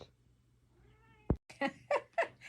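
A pet cat meows indoors at home, a thin rising call followed by a short sharp sound and then three or four close, fairly loud meows in quick succession.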